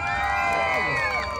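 A crowd of children and adults shouting and cheering at an outdoor clown show in a public square, loud overlapping high-pitched cries and whoops, close and continuous.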